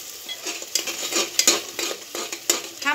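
Roasted masala stirred into hot oil in a pan makes a loud, close sizzle broken by rhythmic spoon scrapes and metallic knocks against the vessel, with no voices.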